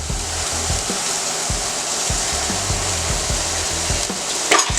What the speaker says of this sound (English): the sauce is cooking away here